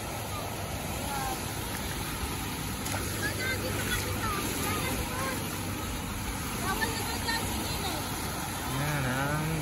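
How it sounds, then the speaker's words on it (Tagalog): Strong waves breaking on San Fabian Beach in Pangasinan, a continuous rushing roar of surf mixed with wind noise, steady throughout, with people talking faintly beneath it. "Ang lakas ng alon dito."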